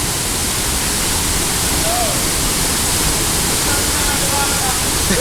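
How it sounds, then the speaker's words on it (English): Heavy waterfall at Nanny Falls, Jamaica, roaring as a loud, steady broadband rush that fills the whole clip without a break. "The water coming heavy."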